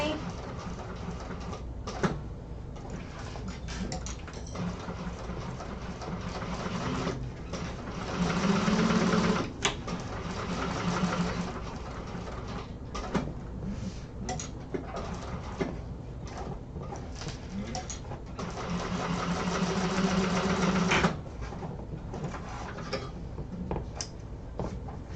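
Sewing machine stitching during an exterior-panel sewing class, running steadily in bursts of several seconds with pauses between, fairly close and moderately loud, with faint talk at times.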